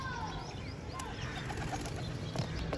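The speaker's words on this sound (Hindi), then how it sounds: "अभी दोस्तों 3 कबूतर आए हैं" Pigeons coo softly against a busy background of faint chirps and distant noise, with a few short calls scattered through.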